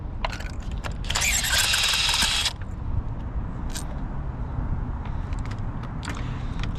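A cordless impact wrench rattles burnt spark plugs out of a 2013–2017 Honda Accord: one loud, close burst lasting just over a second, set against a steady low garage rumble.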